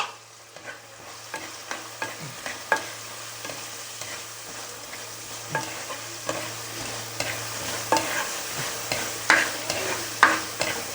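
Shallots, spices and green chilies sauté in oil for a coconut and black pepper fish curry, giving a steady soft sizzle broken by frequent spoon scrapes and taps against the pan.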